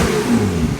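A Porsche 992 Turbo S fitted with a titanium exhaust revs briefly, giving a loud, close engine roar that swells and drops within under a second.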